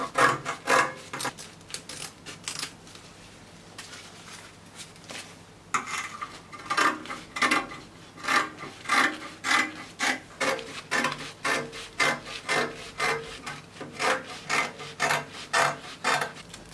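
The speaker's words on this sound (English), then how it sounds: "I will cut out the front neckline cutting out the shoulder side" Scissors cut out the front neckline and shoulder of a fabric circle blouse in a run of repeated crisp snipping and rasping strokes, close and fairly even in rhythm, with a short pause early on.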